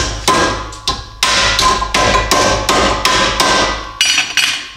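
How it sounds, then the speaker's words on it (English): A steel hammer strikes leaf spring clamp tabs on a Jeep lift install, about ten loud, sharp, ringing blows at a steady pace, close and with no talking. "then I should be able to pound in the rest and pound it flat all the way"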